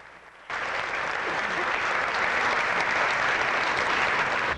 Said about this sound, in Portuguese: Estes seriam apenas os primeiros aplausos da noite.